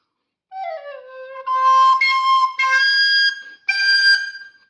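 A recorder plays a short series of clear, breathy notes, rising and holding, with brief pauses between phrases.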